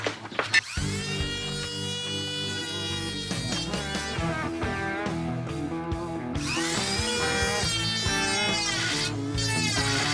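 A Dremel rotary tool whines against a Tomos Nitro 50 scooter's gas tank. Its high, steady motor tone rises and dips as it bites and eases off, and it runs close and continuous with short gaps.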